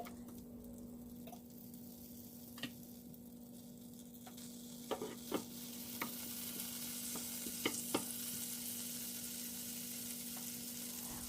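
Oil and a spoonful of butter heating in a pan on a stovetop, with a low steady hiss and hum broken by scattered small pops and clicks that grow slightly busier as it warms.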